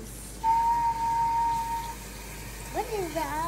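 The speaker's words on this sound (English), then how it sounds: "did you just whistle and then I heard more whistles?" Whistling indoors, one long steady whistled tone followed by a short series of rising and falling whistles, moderately loud over a quiet room background.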